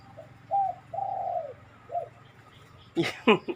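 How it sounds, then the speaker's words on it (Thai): A spotted dove coos beside a house: a few soft, hollow coos close by in a quiet setting, followed by a pair of sharper, brighter calls at the end. "นกอยู่ข้างบ้านเนี่ย นกที่ผมปล่อยออกไปอะพี่น้อง"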